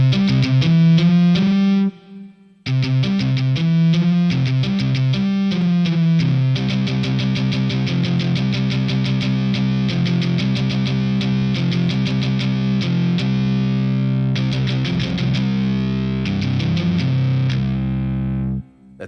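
Electronic music plays through the 8180 effect plugin in the Cubasis app, giving a loud, buzzy, distorted tone. Sustained synth chords and pulsing notes run continuously, with a short gap near the start.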